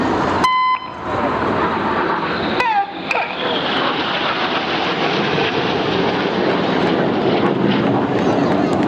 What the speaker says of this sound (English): These 4 aircraft are now closing at 850 miles an hour.